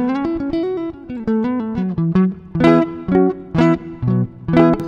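Clean Fender Stratocaster electric guitar played with no amp model and reverb only: a bright single-note and chord phrase with crisp picked attacks and short ringing tails, up close and alone.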